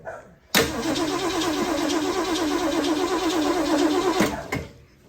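A Mustang engine with its fuel lines disconnected cranks over without catching, the starter churning rhythmically for about four seconds, close and loud, before stopping.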